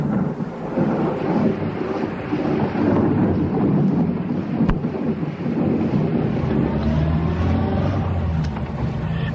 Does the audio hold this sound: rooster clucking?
no